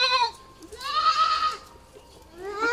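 A Haryana cross-breed goat bleats several times at a market stall, with wavering, nasal cries rising and falling. The goat is close and moderately loud, with a brief pause in the middle and quiet background murmur.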